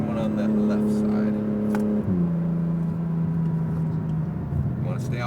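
Acura NSX engine on a Las Vegas race track, holding a loud steady high drone that drops in pitch partway through as it shifts, then carries on strongly under a driving coach's voice.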